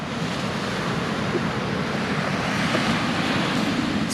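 Wind at a beach in Port Saint Lucie, Florida, a continuous broadband rush blended with the wash of surf, loud and steady for the whole stretch with no talking.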